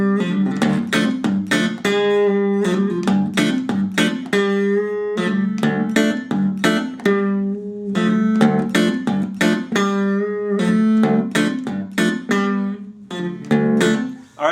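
A palm-muted Delta blues guitar lick picks out a quick run of short, clipped plucked notes in a repeating rhythmic pattern, close and clear with no talk.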